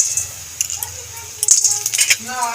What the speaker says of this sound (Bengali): তেল গরম হয়ে গেছে বড়ি দিয়ে দেবো তেলের মধ্যে